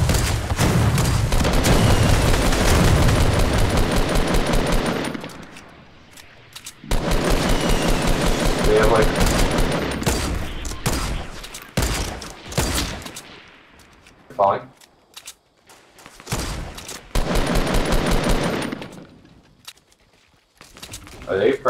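Automatic and burst gunfire in a Fortnite Battle Royale match, loud and dense in long stretches broken by short quiet gaps, with players talking over the shooting.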